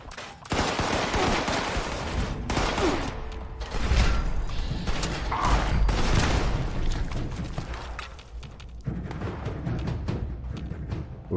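Gunfire rattles through a Fallout 76 firefight on PC in dense, continuous bursts, with heavy thumping impacts. It stays loud and sustained nearly throughout, with a brief lull near the end.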